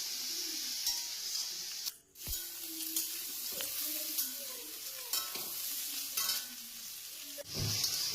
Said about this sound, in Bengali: কাঁঠালটা আমি ভালো করে ভেজে নেব।